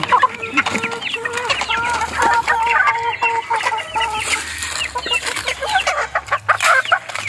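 Backyard chickens cluck busily while eating, a dense close chorus of short clucks and chatter throughout, with faint background noise.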